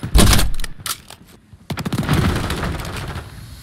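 BAS-B rifle (SIG-Sauer MCX-SPEAR) firing in Modern Warfare III on the Favela map, loud rapid bursts of shots, a short pause, then another sustained automatic burst, close and dominant.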